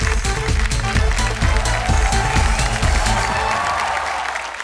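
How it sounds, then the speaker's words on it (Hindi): Loud studio audience applause and cheering at a Hindi late-night comedy family show, steady dense clapping across the whole stretch with music or a beat underneath, gradually easing toward the end. "एक बार जोरदार तालियां मनीष भाई के लिए बस।"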